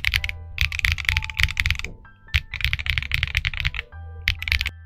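Rapid, steady typing on a keyboard fitted with KineticLabs Salmon tactile switches, deep-sounding keystrokes in dense bursts with one brief pause, close and alone with no talking.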